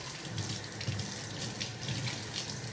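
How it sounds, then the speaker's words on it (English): Lemongrass is washed under a running tap, with a steady close stream of water splashing into a sink and no talking. "So let's wash our lemongrass."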